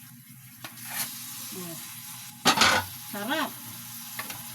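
Bagoong alamang shrimp paste and garlic sizzle in a pan while being stirred and scraped in scattered bursts, with a soft steady fry underneath and a voice speaking briefly.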